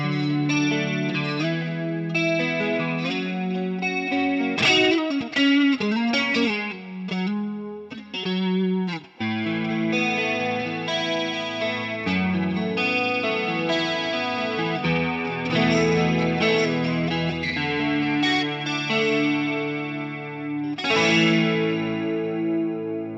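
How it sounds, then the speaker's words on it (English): Electric guitar played through the chorus effect of a Hotone Ampero Stomp II multi-effects unit, a shimmering, slightly distorted run of strummed chords and picked notes lasting over twenty seconds, with no talking. "Here's the chorus."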